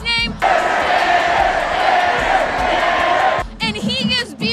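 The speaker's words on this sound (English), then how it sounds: "The crowd chants his name." A football stadium crowd at BYU vs. New Mexico State chants a senior quarterback's name, a loud, sustained roar of massed voices, with brief shouts just before and after.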